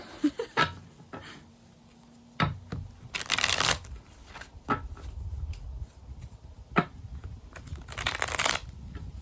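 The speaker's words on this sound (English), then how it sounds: "I'm just gonna shuffle, let's say 2 more times." Tarot cards are shuffled by hand in repeated bursts, sharp riffling flutters and soft slaps separated by brief taps and handling noise, close up and unaccompanied by talk.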